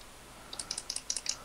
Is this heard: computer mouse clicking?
yes